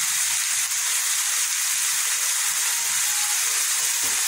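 Spice masala with turmeric, salt and a little sugar sizzles steadily in hot oil, a continuous close, bright frying hiss with faint stirring scrapes and no talk, while the paste is cooked down for mutton kosha.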